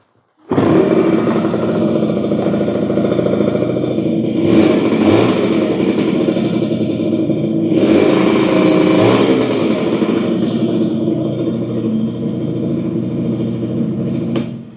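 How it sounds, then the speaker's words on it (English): A brand-new 1982 Yamaha 50 Special motorcycle with an expansion chamber pipe fires up and runs close by, its small engine buzzing steadily with two sharp revving bursts before settling back to idle. "Let me fire it up for you, and it sounds fantastic."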